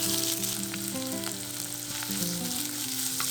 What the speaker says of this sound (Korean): 식용유 2스푼에 양파와 다진 마늘을 볶아주세요.